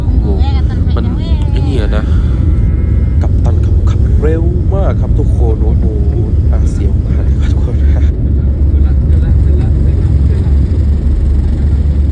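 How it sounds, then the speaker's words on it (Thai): A passenger jet accelerates down the runway for takeoff on a flight bound for Narathiwat, heard from a middle seat in the cabin as a steady, loud engine roar and rumble with people talking over it throughout. "ตอนที่เครื่องบินจะขึ้นนะครับ"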